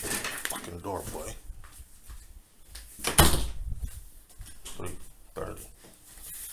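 Door closing with a single sharp thud midway, amid ongoing people talking loudly and some background movement.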